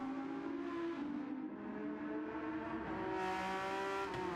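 An Audi GT3 race car in Gran Turismo 7 at Grand Valley Highway, its engine droning and revving hard through gear changes with brief tire squeal, fairly faint, with no talk.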